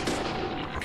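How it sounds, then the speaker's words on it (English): Gunfire in the video game Deadly Premonition as a ghost takes a headshot: a dense, loud burst of blasts filling the whole moment with no talk over it. "I shot that ghost in the head"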